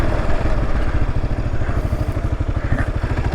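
Kawasaki KLR 650 dual-sport motorcycle ridden off-road on rough, swampy ground, its single-cylinder engine thumping in a fast, steady low pulse up close, with clatter from the bike over bumps.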